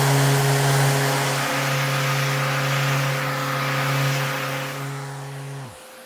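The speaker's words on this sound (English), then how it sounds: "I think I'm going to remove this char using a palm sander." A palm sander runs on unfinished laser-cut Baltic birch plywood to remove char, giving a close, steady motor whine over a gritty rasp that eases slightly, then cuts off as the motor winds down.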